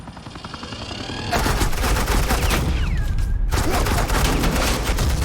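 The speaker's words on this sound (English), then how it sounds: "suppressing fire." Suppressing gunfire in the game Batman The Enemy Within, a continuous loud automatic barrage that kicks in abruptly and rattles on without pause, with brief speech mixed in.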